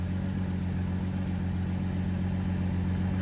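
A Lamborghini Murcielago sits idling while its front lift raises the nose, a steady, loud low engine rumble with a constant hum running unchanged throughout and no voices.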